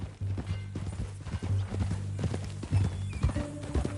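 Horse hooves clip-clop in a steady walking rhythm at close range in the Mortal Kombat 11 video game, with soft creaks and a faint snort under quiet background tones.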